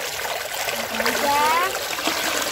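Water splashes and sloshes as someone wades into a hot mineral spring at Thanh Tân, Thừa Thiên. The outdoor splashing is close and moderately loud, with voices nearby.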